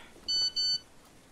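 Two short, bright electronic beeps in quick succession sound a text message alert in a horror game, set against a quiet dark background with no talking.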